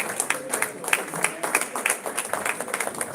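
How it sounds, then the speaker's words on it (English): Audience applause at an annual general meeting, scattered clapping of moderate density under a faint murmur of voices, steady for the whole stretch. "Let's give him a round of applause."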